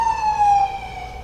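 An ambulance siren in a Chinatown street wails loud and close, its steady tone holding and then dropping slightly in pitch as the vehicle passes, with no talk over it.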